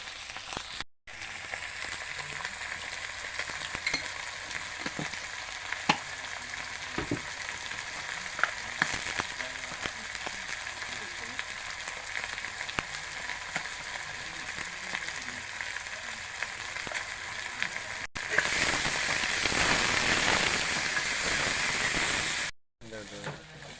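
Eri silkworm pupae frying in a pan with little spice, giving a steady, dense sizzle that runs almost unbroken and swells louder near the end.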